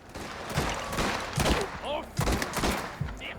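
Repeated gunshots in a French-dubbed Mafia video game firefight, sharp loud bursts in clusters roughly every second, with voices shouting over the shooting.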